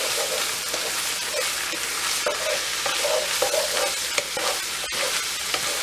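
Onions and garlic fry in a pan for a cottage pie, a dense, steady sizzle carrying repeated stirring scrapes and one sharp click of a utensil, loud and near, with no voices over it.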